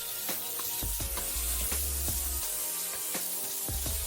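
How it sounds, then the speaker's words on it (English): Bacon sizzling in a hot wok while cooking jajangmyeon, a Korean black bean noodle dish: a steady, close frying hiss dotted with sharp pops and crackles throughout, no voices. "Once it's heated, we're going to add our bacon."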